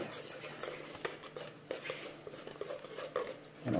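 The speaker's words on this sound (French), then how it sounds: "on mélange bien le tout" Almond powder is stirred into galette des rois cream with a utensil scraping a bowl, a steady close stirring with small clinks, quiet and continuous.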